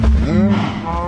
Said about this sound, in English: Why are there so many cows crammed into the corner?